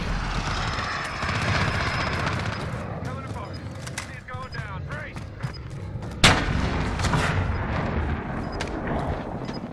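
Helicopter chopper gunner in Modern Warfare opens fire, heavy booming gunfire and rotor drone rolling continuously, with one especially loud blast partway through while players talk over it.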